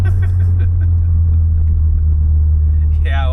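Tuned Stage 1+ VW Polo GTI making about 267 hp and 400 Nm, driven in sports mode: a loud, steady, deep engine drone close by and barely changing throughout, with a brief voice-like sound near the end.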